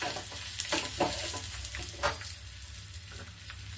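Cashews, chana dal and urad dal fry in hot oil with ginger for a mosaranna tempering, giving a steady close sizzle with a few stirring scrapes and clinks across the pan.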